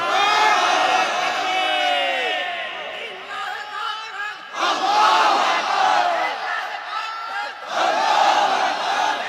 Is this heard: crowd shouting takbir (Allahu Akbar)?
yes